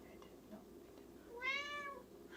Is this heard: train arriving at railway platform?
no